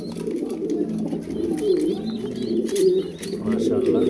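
A pair of pigeons, a male and female, coo softly and repeatedly under steady background noise, with a person talking nearby throughout.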